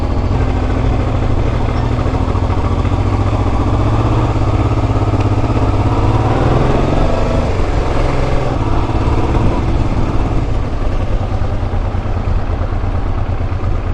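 A Honda Africa Twin motorcycle's engine runs steadily and loud up close on a winding coastal road, a continuous low throbbing hum with no talk over it.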